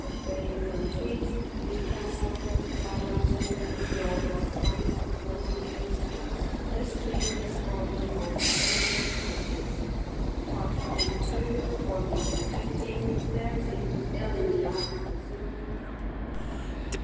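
ScotRail trains at Edinburgh Waverley railway station rumble and clank through the platforms, with a continuous low engine drone, brief wheel squeals and a burst of hissing air partway through, heard from close by without talk.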